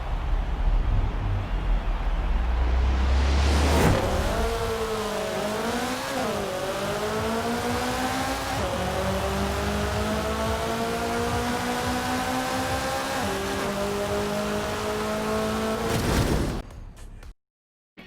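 Tuned Toyota MR2 AW1 and SW20 cars racing a quarter mile in Forza Horizon 4, engines revving hard with rising gear-change sweeps, a loud continuous drone that cuts off abruptly at the end.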